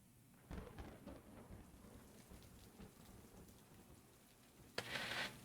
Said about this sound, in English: Thunder tears through the sky